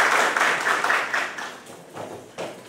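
Audience applause at a professional training workshop, a sustained burst of clapping from a roomful of people that swells and then tapers off over a few seconds.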